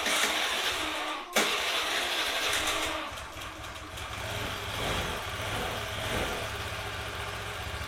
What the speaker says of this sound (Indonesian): Nah ini kan misal saya posisikan langsam seperti ini, nah ini kan motor masih enak nyalanya.